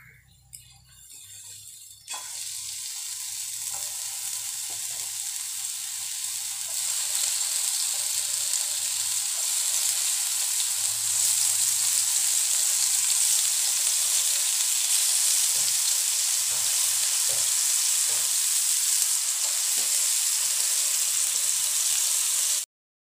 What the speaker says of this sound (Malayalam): ഇപ്പൊക്കെ ചൂടായി വന്നിട്ട് നമുക്ക് ഓരോ ലെയ്സ് ഇട്ട് കൊടുക്കാം